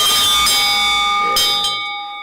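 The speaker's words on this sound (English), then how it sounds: "ring the bell for me, ring the bell" Bell strikes twice, about a second apart, with bright sustained ringing tones that linger and fade out at the end; loud and close, with no talking.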